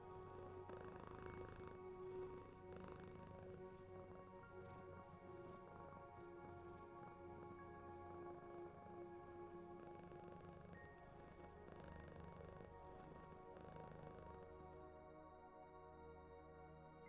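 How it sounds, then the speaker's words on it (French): A cat purrs steadily and softly for the whole stretch, a continuous low rumbling vibration with no pauses, heard close up at a gentle level. "Vous ressentez les vibrations apaisantes de ces ronronnements"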